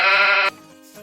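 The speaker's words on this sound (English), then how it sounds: "This is a sheep." A single sheep gives one loud, clear bleat lasting about half a second, heard alone against a quiet background.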